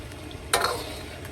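Pork is stir-fried in a wok while cooking sugar colour for Chinese red-braised pork, a soft steady sizzle broken by one brief scraping stir of the spatula.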